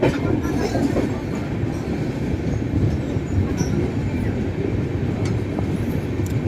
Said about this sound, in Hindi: हम लोग यहाँ पे ओवरटेक कर रहे हैं अहमदाबाद ब्राउनी सुपरफास्ट को।